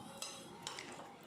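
Masala sweet corn chaat stirred in a bowl with a spoon, a few light metallic clinks and scrapes spaced unevenly over a faint background, close and quiet.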